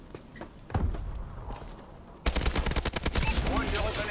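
Rapid automatic gunfire from Call of Duty: Advanced Warfare gameplay, scattered shots at first, then a loud sustained burst in the second half.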